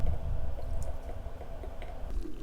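Filet mignon is turned and coated in a fish sauce and salt marinade, producing soft, close squishing and wet dripping sounds at a steady low level.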